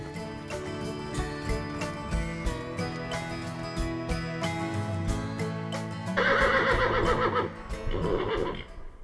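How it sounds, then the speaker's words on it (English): Horses on a trail ride through a rugged New Mexico canyon neigh and whinny loudly and repeatedly over a music bed, with some hoof clip-clop and no talking. "Our horses pick up the pace, riding us off into the sunset."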